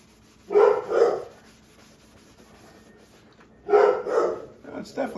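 A house dog barks at an approaching mail carrier in two separate loud bursts of a couple of barks each, a few seconds apart, with a quiet stretch between them.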